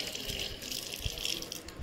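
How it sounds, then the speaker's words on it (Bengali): A household water tap runs in a steady, fairly faint hiss and splash as someone washes their hands under it. "কলটা একটু হাত ধুয়ে নি।"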